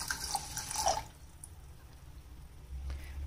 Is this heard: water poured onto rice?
yes